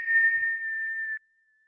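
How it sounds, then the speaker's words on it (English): A single steady whistle of breath blown out during a breathing exercise, a clear close pure tone held for just over a second before cutting off into silence. "And whistle out every bit of breath you can."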